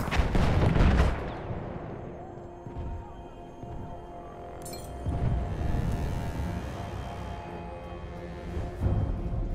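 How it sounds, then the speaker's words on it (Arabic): A grenade blast in Battlefield 1 Conquest multiplayer lands as a heavy, booming burst at the start, followed by a dense rumble of distant gunfire and further explosions throughout the battle. "قنبلة تخرج"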